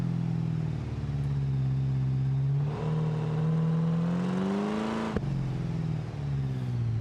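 Car engine in the BeamNG driving game, close and loud, holding a steady tone, then revving upward in pitch before dropping abruptly with a sharp downshift and settling into a lower drone.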